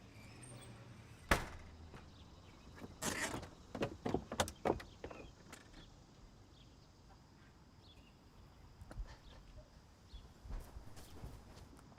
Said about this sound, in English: Damn it, Sugar, I can hear you opening up the back door.